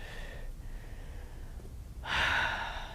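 A group breathing exercise, with hands placed on the body and deep breaths drawn into them. Soft, steady airy breathing is followed by one louder, fuller inhale or exhale near the end.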